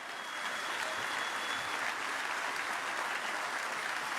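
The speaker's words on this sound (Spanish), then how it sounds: "Dele un aplauso al Rey." Church congregation at a Sunday evangelical service applauding, steady dense clapping from many hands throughout, moderately distant and even in level.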